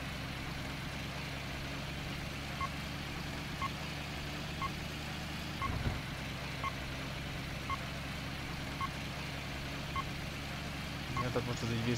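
Regularly spaced short electronic beeps from a radar detector in the Hard Truck trucking video game sound over a steady truck engine drone, while someone talks throughout.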